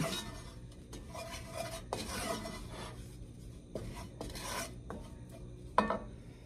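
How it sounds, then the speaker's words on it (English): A spoon scrapes and stirs flour into vegetables cooking in a pan, with rhythmic rasping strokes and occasional clinks against the metal, close up and without talk over a faint sizzle. "now we're gonna add in 3 tablespoons of flour, and we're gonna get that stirred in"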